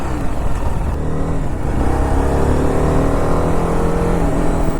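A BMW G 310 RR single-cylinder sport motorcycle revs on a race track during a riding event, its engine note climbing and holding in a steady, loud, close drone.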